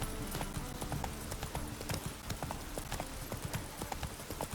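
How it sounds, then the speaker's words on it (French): Steady clip-clop of horse hooves while riding in The Witcher 3, a brisk repeating gallop rhythm heard up close over a dense ambient game background, with no talking. "on va se déplacer à cheval"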